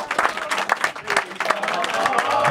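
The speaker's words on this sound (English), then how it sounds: "Give him a big round of applause," An audience at a live show breaks into applause, a dense patter of clapping hands filling the room for a few seconds, with a voice speaking over it.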